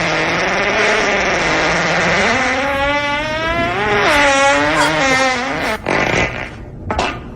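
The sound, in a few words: fart sound from the movie Step Brothers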